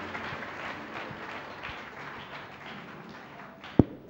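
Faint, scattered clapping from a congregation at a children's camp closing church service welcoming an evangelist, followed by one sharp thump near the end.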